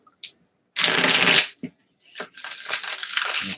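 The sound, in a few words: shuffling tarot cards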